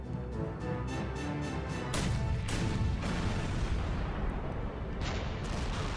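Naval gunfire from the battleships Hood and Prince of Wales engaging Bismarck at 24 kilometres on 24 May 1941: a dense, continuous barrage of heavy booms and deep rumbling, loud and sustained throughout.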